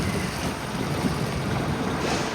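Sea waves washing at a harbour full of boats in Chennai, a dense, continuous rush of water blended with wind buffeting the microphone, with no voices.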